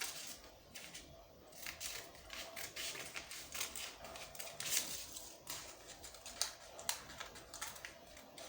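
Scissors cut out a fabric pattern piece for a wrap crop top, giving faint, close, rapid crisp snips and rustles that run on steadily for several seconds without talking.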